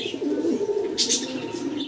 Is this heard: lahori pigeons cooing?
yes